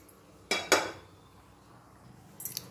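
A metal kadhai pan set down on a stovetop before making thin dhirde, giving two sharp clanks close together, then a quiet pause and a lighter clink of metal near the end.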